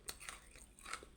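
Crunchy pilipit snack bitten and chewed up close, a few quiet crisp crunches in quick succession, faint and dry with no talking.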